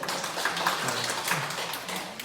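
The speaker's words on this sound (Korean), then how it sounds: "박수 한번 주세요." Church audience at a Marian devotion lecture clapping steadily for a couple of seconds, moderately loud with cheers and voices mixed in.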